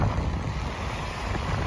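A motor boat runs at 2,000 RPM off Simons Island, Georgia, pushing through waves at about 4.5 knots, giving a loud, steady engine rumble mixed with water rush and wind buffeting on the microphone, with no talking.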